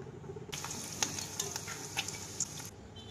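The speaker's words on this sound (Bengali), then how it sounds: "পটল ভাজা করে ফেললাম আর শাক ভাজাও বসিয়ে দিয়েছি" Pointed gourd and red leafy greens fry in a pan with a close, dense sizzle that starts suddenly and cuts off about two seconds later, with small stirring clicks over it.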